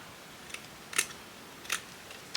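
Scissors snip paper flowers for a handmade journal, three or four short, crisp, close cuts spaced apart in a quiet room.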